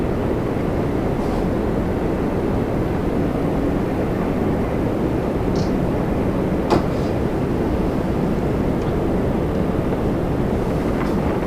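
A steady broadband roar of an Air Canada Rouge airliner arriving at Toronto Pearson, continuous and fairly loud throughout with little variation, a brief sharper transient near the middle.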